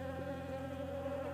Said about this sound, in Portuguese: Vem outra abelha e vai fechar essa célula.